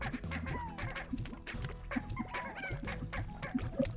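Chickens in the video game Slime Rancher cluck and chirp continuously over a dense, busy backdrop of game sounds, with overlapping calls close up.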